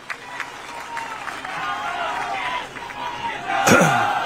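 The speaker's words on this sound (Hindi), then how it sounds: "एक बार तालियों से स्वागत करें।" An election rally crowd applauds with steady clapping and cheering throughout, alongside a loud amplified voice over the speakers and a sharp bang near the end.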